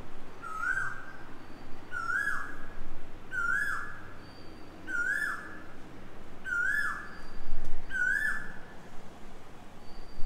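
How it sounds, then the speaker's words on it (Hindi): An Asian koel calls repeatedly, six evenly spaced rising whistled notes about every one and a half seconds, over a soft outdoor background hum. "ये कोयल की आवाज़ है एक्चुअली।"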